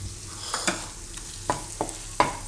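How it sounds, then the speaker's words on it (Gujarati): A spoon stirs spices and chili frying in oil in a pan for broccoli soup, a low sizzle under several sharp scraping knocks spaced about half a second apart, close and without talk. "થોડીક વાર આ બધું ફેરવી લેવાનું આ રીતે"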